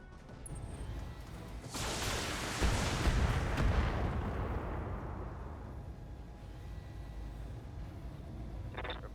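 A heavy mech weapon in the BattleTech video game fires one loud, booming blast, and its roar slowly fades over several seconds.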